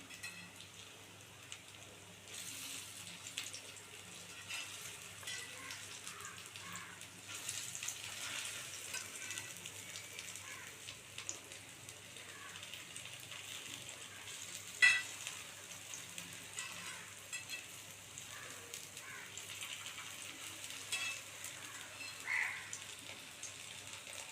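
Raw plantain pieces, cooked fish-fry style, fry in a pan over a medium flame and get turned over. A faint, steady sizzle runs throughout, with one brief sharper clink midway.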